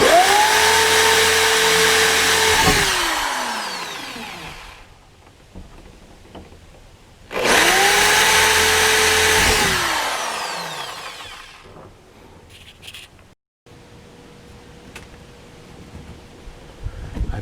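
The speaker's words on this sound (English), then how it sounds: "And then I'm taking a small drill bit, which is 15/64." A power drill with a small 15/64 bit bores into a camper van roof for a vent install, in two loud sustained whirring bursts of a few seconds each that spin down, separated by quieter pauses.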